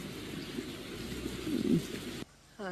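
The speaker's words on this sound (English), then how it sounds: "It's pouring rain." Heavy pouring rain on arrival after a move with a car and trailer, a steady dense hiss for about two seconds before cutting off abruptly.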